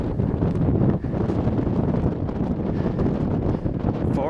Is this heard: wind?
yes